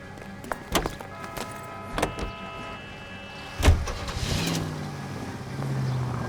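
A car in L.A. Noire clicks, thuds and starts up, then its engine swells into a rising drone as it pulls away, after a few sharp knocks and door-like clunks.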